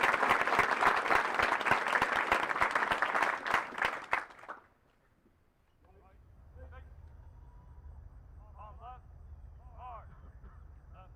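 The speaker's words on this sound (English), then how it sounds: "please join me in giving our awardees a round of applause" Audience applause for the awardees at a military cadet regiment graduation ceremony fills the first four seconds with dense, loud clapping, then fades. A voice speaks into the quieter space that follows.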